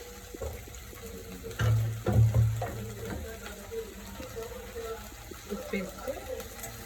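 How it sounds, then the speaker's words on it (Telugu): Onions frying in a pan at home, a low sizzle with stirring clatters and a few louder knocks, and a voice talking over the cooking. "వేపుకున్న తర్వాత ఇప్పుడు ఉల్లిపాయలు వేస్తారు మా మమ్మీ"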